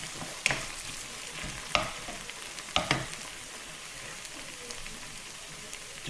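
Tomatoes sizzling in a pan for a mussels in tomato and chilli sauce, a steady crackling fry with a few sharp ticks and pops over a soft hiss.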